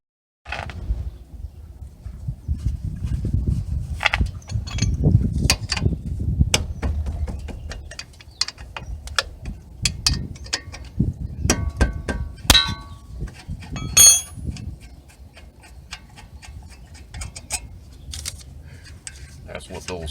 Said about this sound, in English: let me go ahead and crack this caliper loose